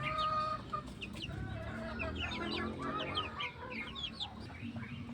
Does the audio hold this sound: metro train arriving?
no